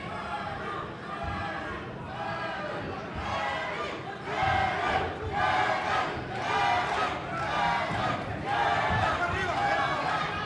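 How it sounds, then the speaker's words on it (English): A boxing crowd at a fight in Hawaiian Gardens chants rhythmically for two fighters, Eddie and Kevin, with loud, repeated swelling chants filling a busy room and growing louder toward the end. "One side of the room chanting for Eddie, the other side for Kevin"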